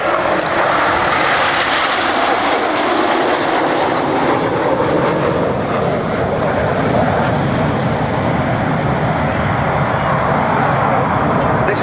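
A formation of jet aircraft at the 2013 Cosford Airshow roars overhead in a loud, continuous rumble while a commentator speaks over it.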